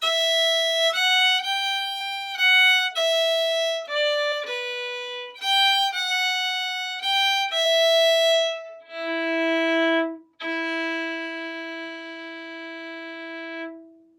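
A fiddle plays a phrase from the Irish hornpipe The Rights of Man, a run of clear bowed notes in a lively rhythm that ends on two long held low notes, solo and up close.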